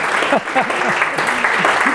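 A burst of applause from a small audience, steady clapping over about two seconds with a voice briefly heard over it.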